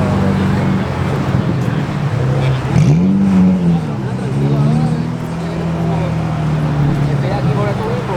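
Cars roll in and rev at a Nissan Z car club year-end meet, engines rising and settling nearby under a steady rumble, with people talking over the traffic noise.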